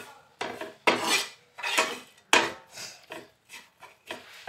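Pomfret fish gets mixed with chili powder and sauce in a pan, a series of close, uneven scraping and rubbing strokes of a utensil against the metal, each a short burst separated by brief pauses.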